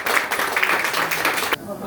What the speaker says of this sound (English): Round of applause for Rabbi Haber, please.